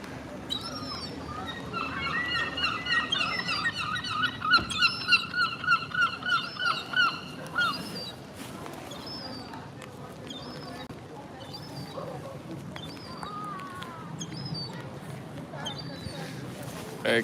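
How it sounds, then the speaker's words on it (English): Seagulls in a cathedral city in Exeter, England, call from above in a run of loud, repeated honking cries over the first half, fading to occasional calls amid street ambience and light rain. "There's more seagulls up there."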